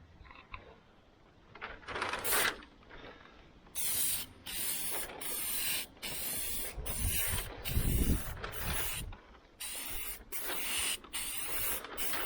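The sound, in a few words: aerosol spray can spraying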